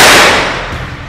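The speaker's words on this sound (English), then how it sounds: "Firstly, we will use 9mm Uzi to intensively shoot on body armor." A single sharp, loud report from a 9mm Uzi fired at a body armor vest, close by, with a quick crack that fades over about a second.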